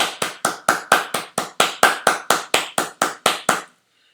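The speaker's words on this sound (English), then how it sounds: "If you can please applaud." Sharp, evenly spaced claps ring out about fifteen times in a steady rhythm, loud and close with no talk, then stop abruptly, the kind of applause called for at an orchestra awards night and senior farewell.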